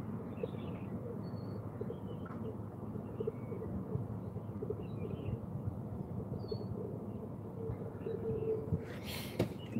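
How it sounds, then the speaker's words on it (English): Pigeons cooing close by outdoors, soft repeated low coos over a quiet background with a few faint chirps, ending in a brief noisy rustle. "I got fucking pigeons next to me"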